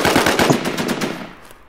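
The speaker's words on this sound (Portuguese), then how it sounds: "Vai, ele vai atirar." Automatic gunfire in the online shooter WarZombie, a loud rapid burst of about a dozen evenly spaced shots that trails off into a fading echo, with no voices.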